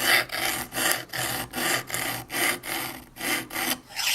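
A knife blade is drawn across a sharpening stone in about ten even, rhythmic strokes, each a close gritty rasp separated by short pauses, with no talking.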